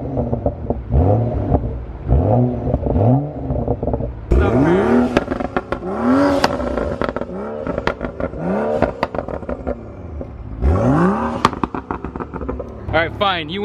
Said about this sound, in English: I'm gonna go ahead and give a few revs.